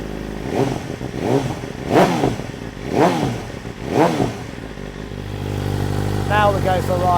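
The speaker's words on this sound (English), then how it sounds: "it's time to make a little bit of noise, and it is quite a noisy exhaust" BMW M1000XR superbike with a loud aftermarket-style exhaust revved repeatedly, four sharp rising-and-falling blips close by, then settling into a rumbling idle.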